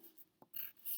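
Pen or pencil writing briefly on paper, a few soft scratchy strokes close by and faint, with no voices.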